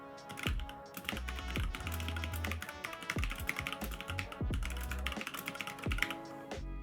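Rapid, steady typing on a computer keyboard at a desk, close and continuous with dense clicking keystrokes throughout, a few heavier thumps mixed in.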